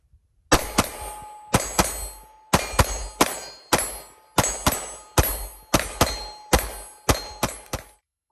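An HK VP9 pistol fires at an outdoor shooting range, about thirteen sharp, loud shots in uneven quick pairs and singles, each ringing out with a short decaying tail.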